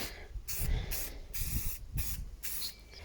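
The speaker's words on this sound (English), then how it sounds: "Try not to get too close, otherwise you're gonna have some running of the spray paint." Short bursts from an aerosol spray paint can, five or six hissing passes in a quick rhythm with brief gaps, close and loud, applied to a Datsun drift car project.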